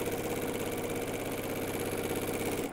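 A sewing machine runs at full speed quilting a layered fabric sandwich, giving a dense, steady mechanical whir with rapid even pulsing, close and continuous throughout.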